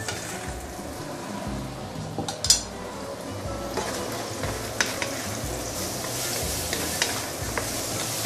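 Pieces of fish stomach sizzle and crackle in a hot wok for a braised stew. A steady frying hiss runs under repeated scraping stirs and clinks of a utensil against the pan.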